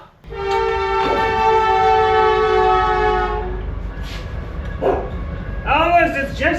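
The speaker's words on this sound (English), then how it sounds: "it's just a train" A train horn blares in a long sustained tone for a few seconds, followed by rumbling rail noise and people talking nearby.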